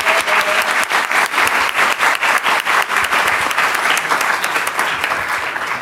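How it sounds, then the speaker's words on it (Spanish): An audience at a constitutional discussion panel applauds two speakers, a loud, close stretch of dense clapping with distinct rhythmic claps standing out, tapering slightly near the end. "le damos un aplauso."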